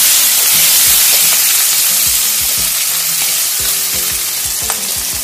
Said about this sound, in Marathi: आता कांदा छान परतला गेलेला आहे